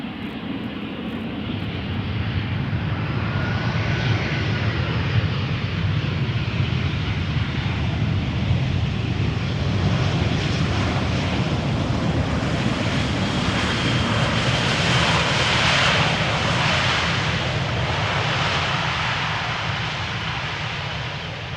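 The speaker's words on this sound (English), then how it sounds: "This A319 is 14 years old" A 14-year-old Airbus A319 airliner arriving at Amsterdam Schiphol Airport, a loud, steady engine roar with a broad rushing hiss that swells slightly as it passes and then slowly eases, with no voices.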